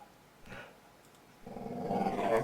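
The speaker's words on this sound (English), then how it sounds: "That's my dog, of course, looking for attention." A dog growls low and close, one short rumble followed by a longer, rising growl that swells toward the end, with no talking.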